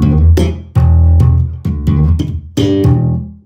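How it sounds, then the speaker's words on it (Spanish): On electric bass, a short riff of open E, a D, a slurred E and a thumb-slapped octave E repeats in punchy, close, plucked bursts with brief gaps between phrases. "La base que estamos haciendo es mi al aire"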